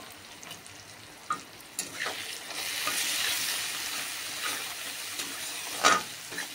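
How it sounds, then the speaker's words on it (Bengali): Spices with salt, turmeric powder and dry chili powder are sautéed in a pan for an okra dish, making a soft, uneven frying hiss with scattered scraping and stirring knocks close by. "2 থেকে 3 মিনিট মশলাটাকে কষিয়ে নেব।"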